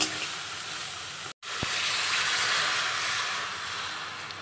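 Water is poured into a pan of hot oil with dried red chillies, setting off a loud, steady sizzle and hiss that is cut off briefly and then resumes, continuing evenly.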